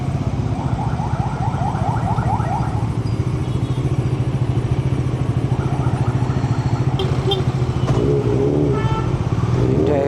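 City traffic from the saddle of a moving Bajaj Dominar 400 motorcycle: a loud, steady engine drone runs throughout, with passing horn toots rising over it twice.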